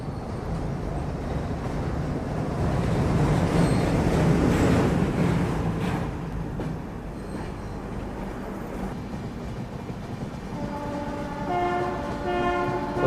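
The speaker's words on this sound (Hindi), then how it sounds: "ये वाली फ्रेट ट्रेन तो देखी भी हुई है कई बार।" A freight train rolls past on an Indian railway, a loud steady rumble of wagons building and easing, with a horn sounding in repeated tones near the end.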